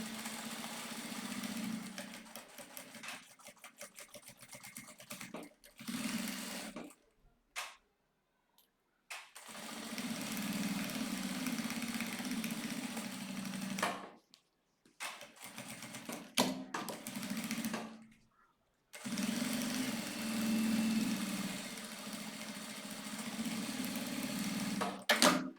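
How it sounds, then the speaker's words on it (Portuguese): A sewing machine stitching a fabric handbag runs in several bursts of rapid close mechanical chatter, separated by short silent pauses between passes. "já vou costurar toda ela, para toda ela já ficar juntinha"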